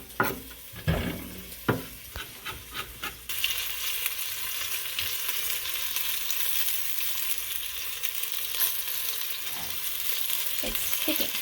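Fat renders and fries in a pan for miso ramen: a few sharp knocks and stirring clatters come first, then a loud, continuous sizzle takes over.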